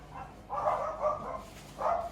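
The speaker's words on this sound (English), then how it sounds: "The dog's barking at the postman." A dog barking at the postman, three or four muffled barks spaced irregularly, heard from some distance indoors, moderately quiet with no one talking.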